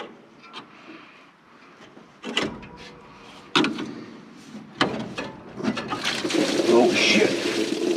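Antifreeze drains from the lower radiator hose of an old Jeep, starting with a few knocks and clunks, then a rushing, splashing pour that grows louder and steadier toward the end, with a person talking faintly.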